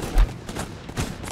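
Gunfire in the video game Guns Up!, a low thump near the start and another muffled burst about a second later over a busy, noisy battlefield mix.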